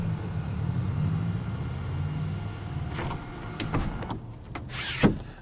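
The power sliding rear window of a 2023 Honda Ridgeline RTL-E whirs with a low electric motor hum, then ends in a sharp click and a brief mechanical thunk near the end.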